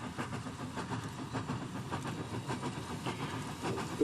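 Early 1900s train with a brake van and short rolling stock on the Pichi Richi Railway, a steady rumbling roll with faint rhythmic clatter, moderately quiet and with no talk.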